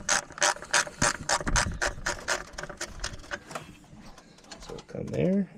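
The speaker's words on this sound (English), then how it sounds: "This one's a little bit easier with a little bit of a ratchet." A hand ratchet works on bolts of a 2013 Chrysler Town & Country minivan, a rapid run of sharp clicking strokes that slows and fades, with someone speaking briefly at the end.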